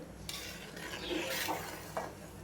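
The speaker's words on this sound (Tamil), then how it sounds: "இப்போ அடி வர நல்லா கிண்டி விட்டு" A spoon stirs Bai-style chicken biryani in a pot, scraping the bottom with soft rubbing and a few light metallic clinks, quiet and close, with no voices.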